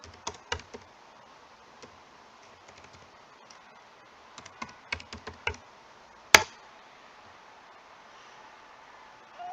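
Fingers tap on a computer keyboard in short irregular bursts of close, light clicks, with one sharper knock partway through and quiet gaps between.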